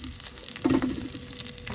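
Onions hitting a pan of hot oil with fennel, chili and curry leaves while cooking a prawn and mushroom pepper fry, giving a close, steady frying sizzle with a brief louder surge.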